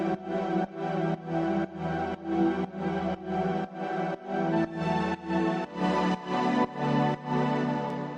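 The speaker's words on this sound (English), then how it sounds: "the main pad by itself sounds like this" A dark, classic deep house pad from the Minneapolis Poly preset in SynthMaster One plays alone, its full chords swelling in a steady pulsing rhythm of repeated, evenly spaced stabs that fill the whole clip.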